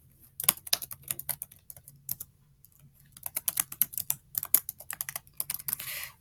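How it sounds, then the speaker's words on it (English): Rapid key presses on a computer keyboard, close and clear, typed in two quick bursts separated by a short pause, with no voices. "I'm going to click enter."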